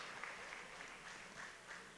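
Audience at a high school 50th anniversary event claps, a fairly quiet, even wash of applause heard from a distance with slight swells.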